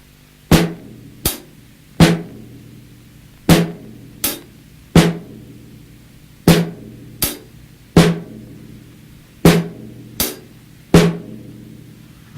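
A drum groove in sixteenth notes plays alone: sharp, regularly spaced hits in a repeating two-beat pattern of strong and lighter strokes, close and clear over a quiet background.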